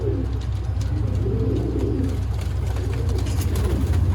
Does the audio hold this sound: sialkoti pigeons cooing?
yes